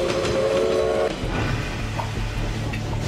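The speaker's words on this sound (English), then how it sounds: "all you can hear is the rumble of the train and the whistle" A steam locomotive rumbling along with a low, steady roar and clattering, while a sustained whistle sounds for about a second at the start.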